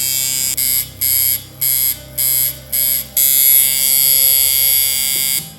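A coil tattoo machine buzzes loudly and close, switched on and off in several short bursts before running continuously with a harsh, steady electric hum.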